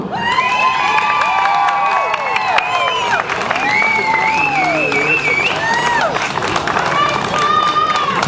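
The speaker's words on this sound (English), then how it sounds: "give a big Chico round of applause to our next Chico official icon, Flo!" Loud, steady applause and cheering from an audience at an awards ceremony, sustained throughout with shouts and whoops over continuous clapping and a voice calling out.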